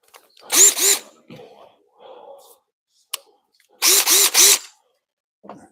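A DeWalt power drill whirs in two short bursts, the first two pulses and then three quick pulses a few seconds later. It is close and loud, with faint clinks and handling noises in between during engine mount work.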